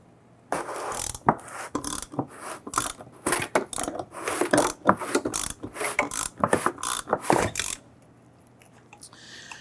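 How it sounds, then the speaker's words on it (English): A lock ring tool turns the fuel pump lock ring on a 1997-2006 Jeep Wrangler, producing a close, loud run of sharp metallic ratcheting clicks and knocks in uneven bursts that stop abruptly near the end. "Let's go to remove our lock ring. We want to use our lock ring tool."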